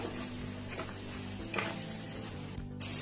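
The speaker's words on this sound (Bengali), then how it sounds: "কাজু বাদাম আর আলমন্ড বাদামের পেস্টটা দিয়ে ভালো করে আমি কষে নিচ্ছি" Cashew and almond paste sautéing in a pan for a prawn malai curry, a steady soft sizzle and frying hiss running through with faint stirring scrapes, fairly quiet and without talk.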